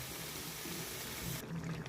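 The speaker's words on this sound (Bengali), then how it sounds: "এবার জল দিয়ে দেবো।" Water pours into a cooking pan of prawn and spinach curry, a brief steady rushing splash that cuts off near the end.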